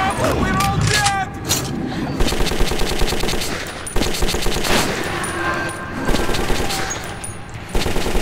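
Heavy automatic gunfire in the first-person shooter Metro 2033 rattles in fast, continuous bursts, loud and close, with shouting voices mixed in over the shooting.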